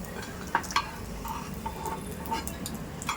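Cashews fry lightly in hot oil in a pan, giving a soft steady sizzle with a few sharp clicks of a stirring spoon against the metal, all close and fairly quiet.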